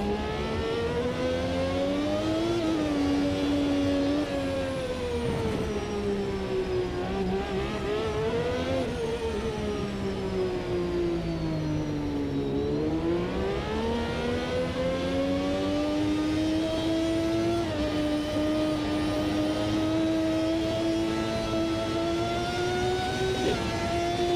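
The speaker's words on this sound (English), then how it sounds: "this is a V12." A high-pitched V12 Formula 1 racing engine in a racing video game screams steadily, its pitch rising and falling as it revs through gears, loud and continuous with no talk.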